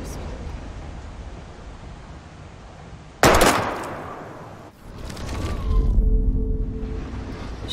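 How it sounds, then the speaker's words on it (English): Gunshots aimed at bottles in the video game Life Is Strange: a single loud, sharp shot cracks out over steady ambient outdoor noise, followed by a quieter rumbling stretch. "We're gonna shoot all these bottles without wasting a single bullet."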